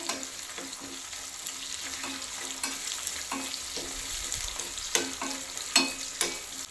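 Finely chopped onions frying slowly over a low flame for a garlic chutney, a soft continuous sizzle broken by sharp spatula clicks and scrapes against the pan, close and fairly quiet with no voices.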